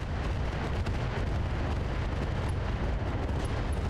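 Heavy mech weapons blast away in Battletech Roguetech, a dense continuous rumble of explosions and weapon fire, loud and unbroken throughout.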